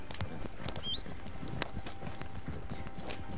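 A horse's hooves clip-clop at a walking pace in Red Dead Online, an even run of light, distinct hoof strikes over a soft ambient bed, with one sharper knock partway through.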